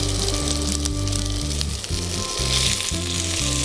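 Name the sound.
salmon skewers sizzling in butter in a pan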